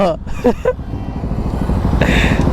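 A motorcycle fitted with a loud aftermarket exhaust rumbles nearby with a heavy, continuous low drone that swells louder toward the end, while someone speaks briefly over its opening.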